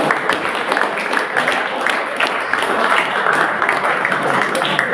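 Applause from an audience welcoming graduates at a skill convocation ceremony in a college hall, a steady dense clapping that continues unbroken and fairly loud throughout.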